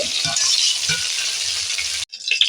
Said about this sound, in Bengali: ঢ্যাঁড়সটা ঠিক এই ধরনেরই ভাজতে হবে